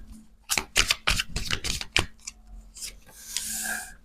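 Tarot cards getting a last shuffle, a quick burst of crisp riffling slaps followed by a softer sliding rasp, close and alone.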